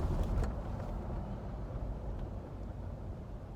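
A Jeep Wrangler JL engine rumbles low and steady from inside the cab while the vehicle rolls along and gradually slows, with a muffled drone and no sharp events.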